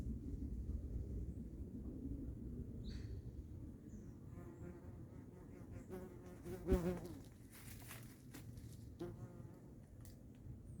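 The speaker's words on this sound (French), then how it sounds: "Une guêpe s'est posée sur mon téléphone et sur ma main maintenant." Wasps and small hornets buzz around a natural beehive outdoors, a steady insect drone with a louder pass close by partway through, and no talking.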